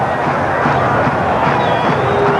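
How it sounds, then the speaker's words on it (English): Stadium crowd at Olympic Park during a 1986 World Cup qualifying football match between Australia and Israel, a steady roar of massed voices swelling after a header, dense and continuous throughout. "So at last this Olympic Park crowd has come to life."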